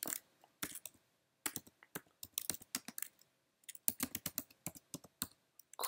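Keys clatter on a computer keyboard as a command is typed into a terminal, quick close-up clicks in irregular bursts separated by short pauses, with no voices.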